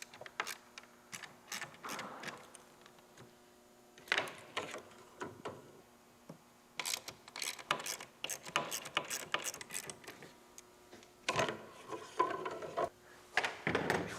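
Fasteners being loosened by hand on the motor deck of a Ruwac Red Line series industrial vacuum, heard as quiet intermittent ratcheting clicks and small metallic rattles, close, with gaps between bursts.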